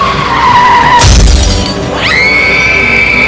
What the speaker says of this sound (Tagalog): malakas na tunog ng 2 sasakyan na nagkabanggaan